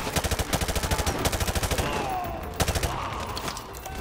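Rapid automatic bursts from a TMP machine pistol in Modern Warfare 2 Remastered, a fast stutter of shots for about two seconds, a pause, then another short burst amid echoing battle noise.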